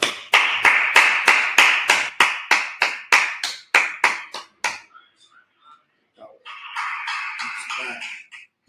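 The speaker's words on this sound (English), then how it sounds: "let's clap it up" A class claps in a brisk, rhythmic pattern of sharp, close claps, about sixteen evenly spaced beats, then falls near silent before a looser burst of scattered clapping with a voice beneath it.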